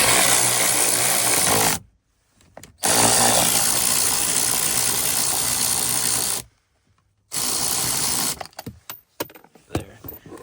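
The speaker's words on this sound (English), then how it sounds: "This is just my little at-home electric ratchet I got off Amazon." A small, low-powered cordless electric ratchet loosening 10mm bolts on the passenger door of a 2015-2017 Ford F-150, running in two long loud whirring bursts separated by silence, then a shorter burst trailing into scattered clicks and handling noises.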